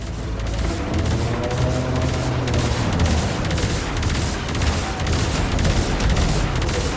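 Railjack gunner turrets firing in Warframe, a dense continuous barrage of rapid shots and booming impacts, loud and steady throughout with no talking.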